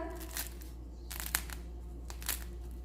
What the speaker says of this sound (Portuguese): É bem fininha e bem crocante.